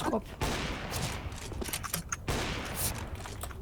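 Video game gunfire crackles in bursts through most of the few seconds, with a short break midway, while players talk over it.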